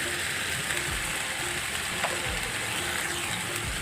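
Spice paste mixed with salt and turmeric sizzles steadily in a pan for a meat curry, with faint scraping from a stirring spoon and a few soft clicks, alone and without talk.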